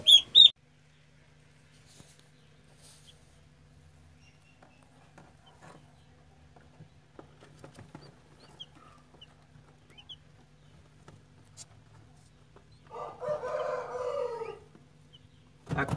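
Peacock and pheasant chicks call: a brief cry at the start, long near-silence, then a short cluster of chirping calls close to the end.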